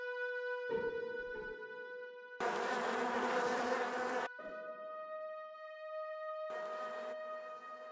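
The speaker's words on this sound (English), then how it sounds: "Oh my god, I'm back at the bees." Bees buzz loudly in a holiday-themed video game, a steady drone layered over sustained tonal game music, with a louder, denser swarm burst in the middle and another short surge near the end.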